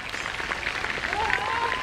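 Children clapping at a school annual sports day, a steady patter of applause with a voice and a whistle-like tone rising over it near the end.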